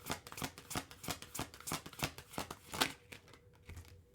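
Tarot cards being shuffled by hand, a quick rhythmic run of soft papery riffles and flicks, close but faint, with no talking.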